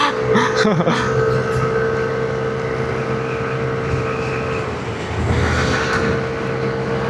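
A Yamaha NMAX scooter climbs the old zigzag road in Quezon, its engine droning steadily through a long pull, with gusts of wind noise buffeting the microphone.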